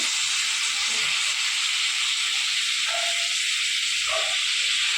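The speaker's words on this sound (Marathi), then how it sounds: "चला, आपला आता तिखट मसाले वगैरे मस्त तेलावरती फ्राय झालेत आणि आता मी याच्यामध्ये काजू घालून घेते." Cashews and potatoes go into chili spice masala frying in oil, and a steady hiss runs throughout with a few faint clinks and stirring touches.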